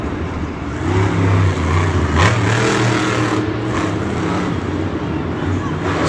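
A Mohawk Warrior monster truck engine roars at a Monster Jam arena event in Houston, a steady loud low rumble with a brief rev, heard under crowd noise and commentary.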